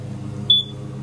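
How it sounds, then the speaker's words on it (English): A smoke detector gives one short, high-pitched chirp lasting about a tenth of a second, set against a steady low electrical hum. "Here is all of my smoke detectors in one video."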